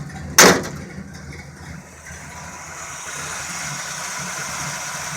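A 1969 Chevrolet C10 shop truck engine settles into a steady, low idle after starting, with a sharp knock near the start and no talk over it.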